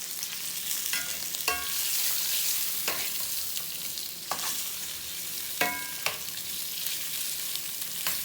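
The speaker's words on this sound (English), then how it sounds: "I always kind of sear my pigtails a little bit before I put them into my beans" Pigtails searing in a pan for Louisiana-style beans and rice, a loud, continuous close sizzle with intermittent metallic scrapes and clinks of a utensil moving the meat.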